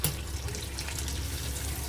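Water runs steadily into a pot of amti (dal curry) during cooking, a faint, continuous splashing pour with no talk.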